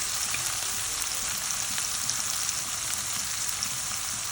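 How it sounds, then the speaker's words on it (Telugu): Onions fry in a pan with salt and turmeric, giving a continuous close hiss and crackle of sizzling oil at an even level with no talking. "ఆనియన్ ఫ్రై అవ్వాలంటే ఒక టిప్ అండి, కొంచెం సాల్ట్ వేసుకుంటే ఫ్రై అయిపోతుంది"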